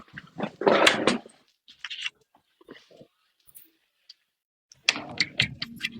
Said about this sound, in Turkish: Dur kapıyı kapatayım ya.